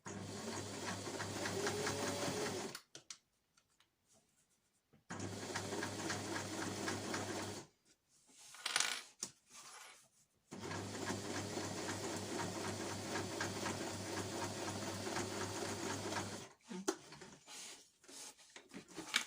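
A sewing machine stitches fabric for reusable snack bags in steady humming runs, stopping and restarting several times with short quiet gaps between bursts.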